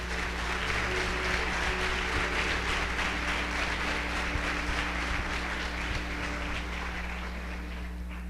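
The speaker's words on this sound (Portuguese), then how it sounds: "Vamos aplaudir a palavra de Deus." A church congregation claps steadily for several seconds, a dense wash of applause at moderate level over a constant low electrical hum, slowly fading toward the end.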